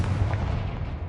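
A Confringo spell blast erupts in a Harry Potter video game, a deep booming explosion with a dense rumbling low end sustained through about a second of steady loudness.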